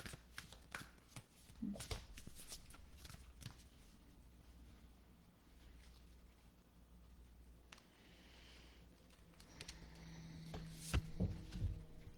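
Tarot cards are shuffled by hand in a quiet room, a soft, irregular run of papery riffles and taps with a few louder thumps near the end.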